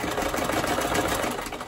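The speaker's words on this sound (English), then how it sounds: "I'm gonna run a stitch through the elastic" Sewing machine running a stitch through elastic, a short, steady, close rapid whirring burst under two seconds long.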